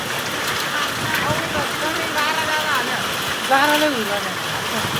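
Steady heavy rain with hail roars throughout with a dense patter during a storm with strong wind, while people talk over it nearby.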